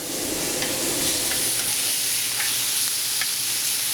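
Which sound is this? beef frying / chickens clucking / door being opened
beef frying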